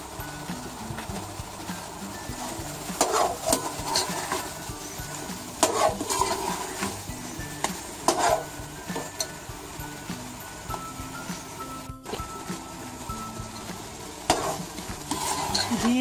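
Carrots cooking in ghee for gajar ka halwa, a low continuous sizzle with repeated scraping and stirring knocks of a utensil against the pan, close and moderately loud, with no clear talk.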